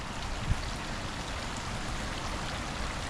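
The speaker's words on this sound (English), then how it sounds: "Look at this fountain. That's a nice fountain." A garden water fountain in Balerno on a rainy day, splashing and trickling steadily as a soft, continuous wash of water sound, fairly faint and unbroken by speech.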